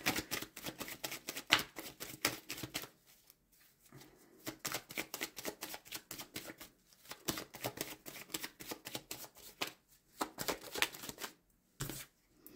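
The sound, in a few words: shuffling and drawing tarot cards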